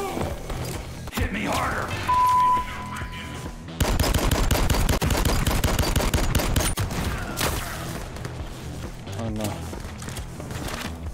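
Shotgun fire in the VR shooter Gambit, a dense burst of heavy, rapid gunfire blasts and thuds amid game effects, with someone talking excitedly over it.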